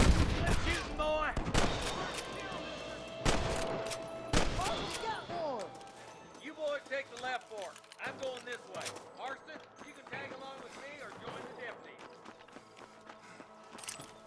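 Gunfire in the Western video game Red Dead Redemption: a burst of sharp, loud shots in the first few seconds, then scattered quieter pops amid shouting voices and action noise.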